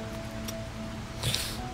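Steady hiss of rain falling in the survival game HOBO: Tough Life, a continuous wash of patter with a brief louder splash near the end, no voices.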